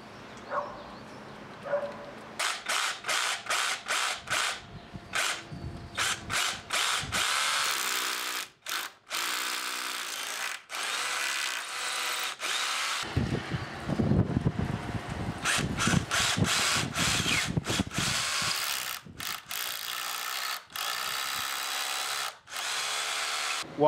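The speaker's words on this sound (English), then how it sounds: "I'm now going to drill through the holes in the timber that we made earlier." A power drill bores holes through fence timber in short, loud bursts separated by pauses, with clicks and handling sounds between runs.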